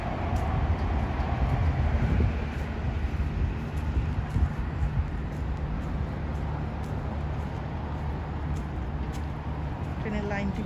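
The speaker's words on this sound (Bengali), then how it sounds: "ওই দেখুন আর একটা ট্রেন।" A train passing nearby during an everyday transit outing abroad, a continuous rumbling roar with rhythmic wheel clatter and faint high squeals, heard alongside background noise.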